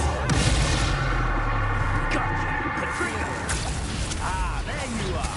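Confringo blast spell explosion in Hogwarts Legacy, a fiery burst with rumbling impacts and crackling debris that carries through the whole clip under busy game sound.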